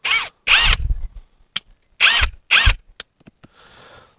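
A WOSAI 20V WS-MD13 brushless cordless drill runs in four short, loud bursts in two pairs, separated by quiet gaps and small clicks, then fades to a faint hiss.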